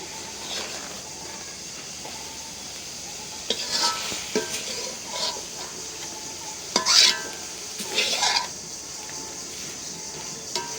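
Dried red chilies sizzling in hot oil for tempering, giving a soft steady fry hiss with a few sharp clinks and scrapes of a utensil against the pan, no talk.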